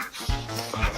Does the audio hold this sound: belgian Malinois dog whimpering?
yes